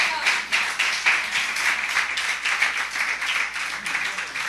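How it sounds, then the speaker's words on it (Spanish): Applause from a church congregation during a Spanish-language sermon, a steady patter of many hands clapping at moderate loudness with some voices mixed in. "Dele un aplauso al Señor"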